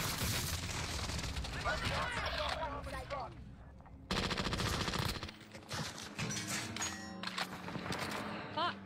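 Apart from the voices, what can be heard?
precision airstrike in video game Warzone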